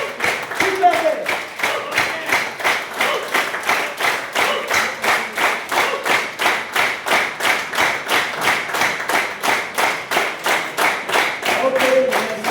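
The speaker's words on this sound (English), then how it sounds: "Keep clapping." Audience of a Lions Club gathering clapping steadily in a fast, even rhythm, loud and continuous, with faint voices mixed in.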